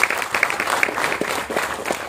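An audience claps throughout at a film audio and trailer launch, loud, continuous and close, with dense overlapping hand claps and no pauses.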